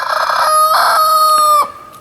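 A rooster on a homestead crows once, loud and close, a long bright cock-a-doodle-doo that cuts off abruptly after about a second and a half.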